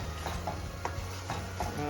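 Chopped ingredients for sambal tumis fry in a pan with a soft, steady sizzle, punctuated by regular scraping stirs of a utensil, close and fairly quiet.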